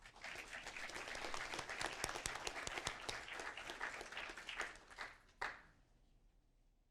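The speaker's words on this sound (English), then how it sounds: "let's give them a round of applause." Audience at a Downey city council meeting applauding students, a dense steady round of clapping for about five seconds that ends with a sharp final burst, then fades to quiet room noise.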